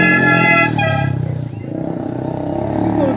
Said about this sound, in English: You can see motorbikes running down and up.